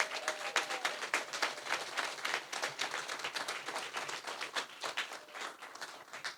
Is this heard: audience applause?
yes